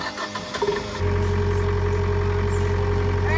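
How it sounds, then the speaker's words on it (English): A sailboat's engine starts up and settles into a steady, close, droning idle that holds without change for the rest of the clip, with no talking. "run the engine for about an hour, and then check it again"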